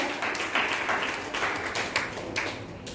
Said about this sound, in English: Please give a big round of applause to Anita ma'am and Professor Perumala Vedgiri sir.